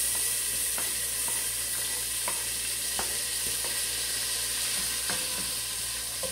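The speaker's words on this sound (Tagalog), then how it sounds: "Uugayin natin muna para maluto ang garlic, sibuyas, kamatis." Garlic, onion and tomato sauté in a pan, giving a dense, steady hiss of frying with regular light taps and scrapes of a stirring spoon against the pan. No one speaks.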